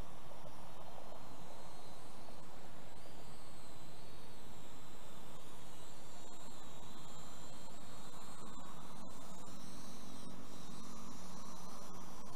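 A small SKRC DM96 FPV quadcopter flies steadily with a constant high buzzing whine of its motors, loud and close throughout with slight pitch shifts as it maneuvers.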